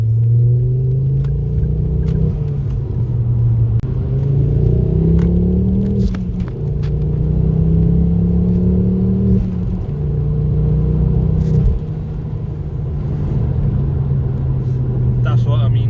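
A Ford Focus Mk2 ST's five-cylinder Volvo engine revs up and down in a deep, warbling drone with rising and falling pitch sweeps, loud and close throughout, dipping briefly near the end.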